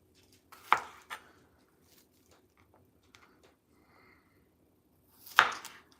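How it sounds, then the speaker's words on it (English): A knife cuts garlic into slices on a board during home cooking of roast pork, giving two sharp, near chops well apart with quiet room noise between. "I'm going to cut my garlic in 3 little slices"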